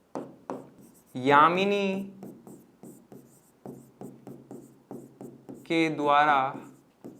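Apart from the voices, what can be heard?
teacher writing a math equation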